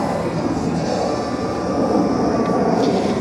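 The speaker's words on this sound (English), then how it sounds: "these pipes, they look factory, but they definitely don't sound factory, so I'm guessing the baffles were removed" A Harley-Davidson Heritage Softail Classic FLSTC with its exhaust baffles removed rumbles in a loud, steady, deep drone that holds even through the whole stretch, with no talk over it.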